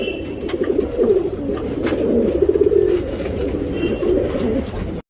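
Tournament pigeons in Bangalore coo in soft, repeated, throaty rolls that are close and continuous, with a faint background hum and no talking.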